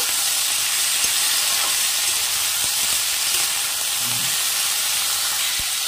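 Washed, cut vegetables fry in a hot pan with a loud, continuous, close sizzle and hiss, with a few faint clicks of stirring and no talking.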